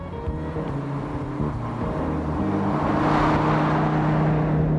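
A Dodge Viper's engine and exhaust give a loud, raw, throaty rumble that swells as it revs up over a few seconds, steady low tones rising toward the end.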